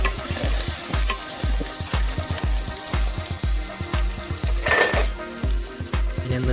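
Small shallots sizzling and frying in a hot pan, with a steady crackle broken by rhythmic scrapes and taps of a spoon stirring against the pan, close and moderately loud.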